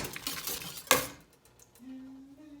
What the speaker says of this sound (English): Use a whisk to break this up too.